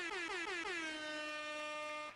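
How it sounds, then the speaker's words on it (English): A single loud air horn blast sounds at the 2024 YMCA of New England Swimming Championships, its pitch sliding slightly downward at the start and then holding steady for about two seconds. "Wow, that deserves an air horn, folks."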